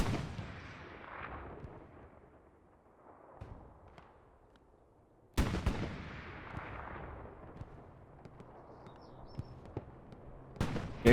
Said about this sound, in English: Here comes the first strafing round of the game.